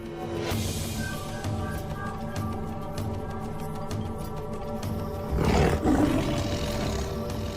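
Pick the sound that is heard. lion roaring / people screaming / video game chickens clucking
lion roaring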